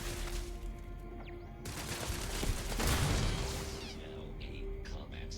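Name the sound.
turrets firing at the player in the video game Starfield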